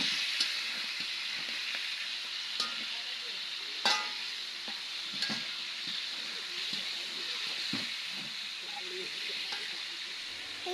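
Onions sizzling as they fry in a home kitchen pan, a steady hiss broken by occasional stirring scrapes, fairly quiet throughout.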